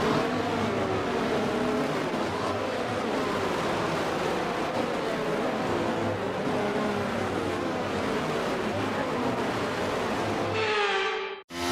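F1 cars in the F1 23 video game roll through a formation lap, a steady mid-level engine drone with shifting tones that runs throughout and cuts off abruptly at the end.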